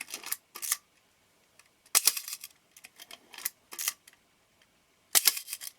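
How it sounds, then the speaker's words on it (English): A Nikon F film camera with a slow-speed shutter fault is worked by hand, giving a series of sharp mechanical clicks and snaps as the shutter is cocked and released, close and crisp with short silences between. "if I push here, I can actually cock the shutter."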